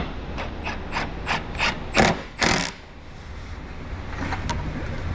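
Ratchet tightening a nut on a strut for a stainless steel X-pipe exhaust on a Ford Mustang 4.6 SOHC, a series of about seven close, crisp clicks in steady rhythm, then a quieter pause with faint handling.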